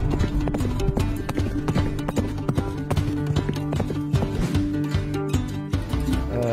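A ridden horse's hooves clip-clop loudly and close in a quick, steady rhythm, continuing without a break throughout.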